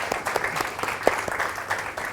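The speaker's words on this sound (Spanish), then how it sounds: "un aplauso." Brief audience applause after a lecture on the Kurds, moderate scattered clapping from a room, short and fairly close.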